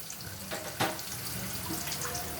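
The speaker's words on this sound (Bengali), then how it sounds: "সামান্য একটু জল দিলাম" Water is poured into a pan of frying onions with turmeric and chili powder for a curry, making a steady, close rushing and splashing hiss that runs through the whole moment.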